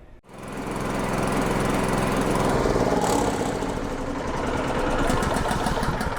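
Engine of an Interceptor SkyVac gutter vacuum starts with a quick pull and settles into a loud, steady running drone that continues unbroken close by.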